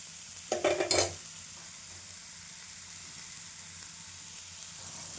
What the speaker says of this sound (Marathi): आणि भाजलेल्या तिळाचा कूट, हे पण छान परतून घेऊया